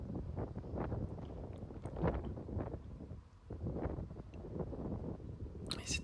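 Steady gusty wind buffets an outdoor padel court during a match, a continuous low roar and rumble with rising and falling surges and a brief high hiss near the end.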